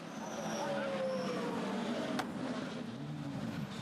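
Porsche race cars run on the track during the 2016 ENEOS 1006 km endurance race in Lithuania, a steady loud engine roar with pass-by drones under continuous commentary.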